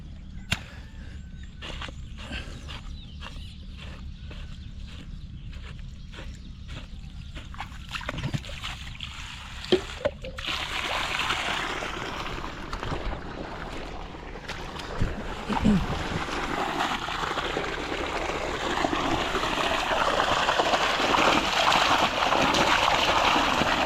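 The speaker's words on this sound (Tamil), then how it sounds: "தண்ணி ஓடிட்டு இருக்கு" Water running into a paddy field in a Tamil village, a steady broadband rush that grows louder and fuller midway, with faint scattered splashes and no clear talk.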